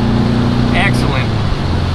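A VW car accelerates along the road in third gear, its engine a steady low drone throughout with a voice speaking over it.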